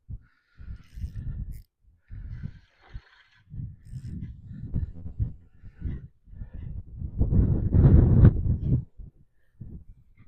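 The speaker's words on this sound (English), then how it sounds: "when you've got that gusting wind, as strong as it is today" Low, blustery rumbles of wind buffeting the microphone in uneven gusts beside a freshwater fishing lake on Guernsey, the strongest surge near the end, with no voices.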